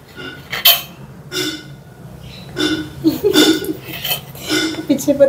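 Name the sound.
parrot rattling a clay pot lid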